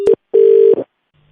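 A telephone line gives off loud, clean electronic tones after a call is hung up. A short beep comes first, then a longer steady tone, and then a faint hum.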